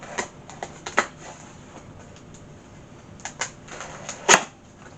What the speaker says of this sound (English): So we're just going to very carefully cut this sticky tape down.